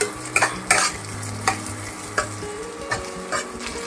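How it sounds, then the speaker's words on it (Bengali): Masala paste for mutton kosha, with whole small onions, being stirred and fried in a pan: steady sizzle beneath repeated scraping strokes of the spoon at an irregular rhythm, close and fairly loud, with no voices. "ভালো করে নাড়িয়ে নেব।"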